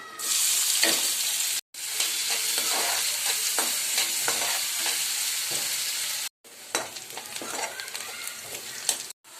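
Onion goes into hot oil with asafoetida, cumin and chili for a potato dish. The loud, close, continuous sizzle is broken by two brief gaps and carries stirring clatter, with no talk.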